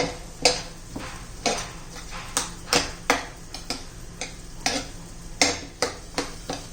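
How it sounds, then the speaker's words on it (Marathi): Cooked eggplant with peas, tomato and onion being mashed in a pan: a steady series of sharp, close knocks and scrapes, irregularly spaced, over a faint sizzle. "आपण हे वांग पहा मॅश करून घ्या चांगलं"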